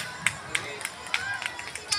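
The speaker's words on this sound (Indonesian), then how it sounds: "Tepuk tangan." Audience applause at an indoor talk, a small group clapping in sparse, uneven bursts with distinct individual claps standing out, moderately quiet and brief.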